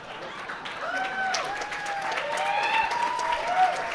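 Audience applause at a longsword tournament awards ceremony, steady clapping from a crowd sustained throughout, with a few voices and whistles over it.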